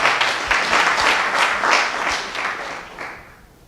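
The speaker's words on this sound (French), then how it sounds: "Merci d'applaudir, s'il vous plaît." An audience at a science café talk applauds steadily for a few seconds, the clapping fairly close and full before fading slightly toward the end.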